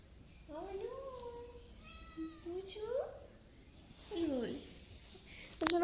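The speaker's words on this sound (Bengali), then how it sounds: "এইটা হচ্ছে বিড়াল" A house cat gives a string of faint, separate meows in a quiet indoor room, each a short rising or falling cry, with a sharper call at the end.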